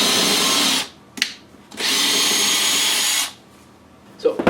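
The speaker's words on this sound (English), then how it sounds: "But we're going to go ahead and drill anyway with this." Festool cordless drill fitted with a Centrotec chuck boring into a cabinet side, two sustained high-pitched whirring bursts of about two seconds each separated by a short pause, loud and close.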